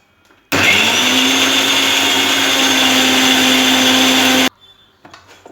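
A mixer grinder blending poppy seeds, raisins and water into a paste runs for about four seconds, a loud, steady whirring roar that starts and stops abruptly, with quiet handling sounds before and after.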